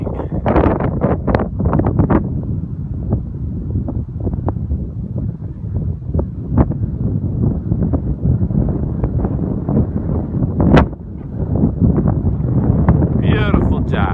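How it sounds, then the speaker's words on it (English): Cold north wind buffets the microphone at an airfield, a loud, constant roaring rumble with gusty bursts throughout. "the wind is just about coming out of the north. It is cold out there."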